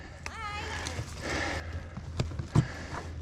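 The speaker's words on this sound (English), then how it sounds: "That's a good size horse." A large horse's hooves thud softly on a forest trail, a few spaced steps near the close mic, mixed with brief voices and outdoor ambience.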